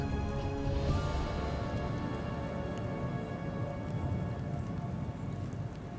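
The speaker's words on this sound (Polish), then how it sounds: "Najpierw deszcz przechodzący w grad, a po chwili w śnieg." Steady rain falls in the mountains of the Western Caucasus as it turns into hail, a dense continuous patter and hiss at constant loudness with a low rumble underneath and no other sounds.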